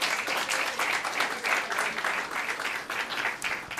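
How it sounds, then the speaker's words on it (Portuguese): Applause from an audience at a live comedy show, a continuous, fairly loud crowd of hands clapping in a rippling rhythm for several seconds without talking over it. "Uma salva de palmas pra ela, por favor."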